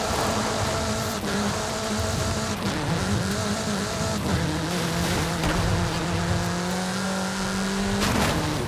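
A Vulcano VUL 05RR pre-production track-focused supercar in Forza Horizon 5 drives hard, its engine droning loud and steady, rising and falling in pitch through gear changes, with brief tire squeal and no talk.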